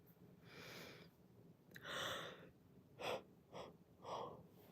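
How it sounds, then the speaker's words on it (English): A person yawning during an evening livestream, a drawn-out breathy exhale followed by a few shorter gasping breaths, quiet and close. "Oh, I was yawning, excuse me."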